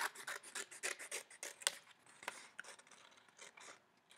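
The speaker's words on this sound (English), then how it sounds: "It's tricky to hold on to scissors and cut when you're first learning how." Scissors cut a paper apple for a children's craft, making a close, quiet series of rapid snipping and rustling strokes in an irregular rhythm with no talk.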